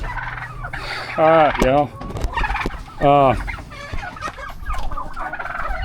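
Farm turkeys gobble in two loud, close bursts of rapid warbling calls, with a person speaking briefly between them over low outdoor background noise.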